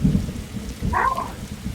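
Steady rain falling in the video game 99 Nights in the Forest, a soft continuous wash with low rumbling texture and a brief brighter tone in the middle, no talking.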